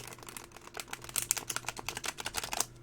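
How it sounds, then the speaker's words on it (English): A deck of tarot cards is riffle shuffled slowly up close. Sparse papery clicks quicken into a dense, crisp flutter of snapping card edges, heard alone at low volume. "Riffle shuffle this deck."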